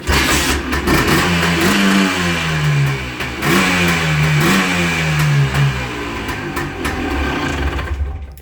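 A Honda ATC three-wheeler engine running close and loud, revving up and down in several rising and falling sweeps over a steady rattling idle.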